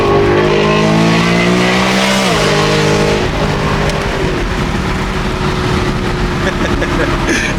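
A BMW E92 M3 accelerates hard in a loud, close engine roar that climbs in pitch, drops on a gear change and continues in a gruff, steady note.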